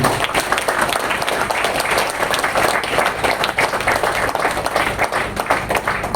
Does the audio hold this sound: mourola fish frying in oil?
no